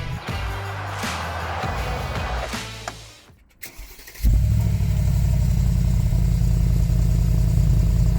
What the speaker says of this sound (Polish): Ach, V8, ten dźwięk. To mi się podoba.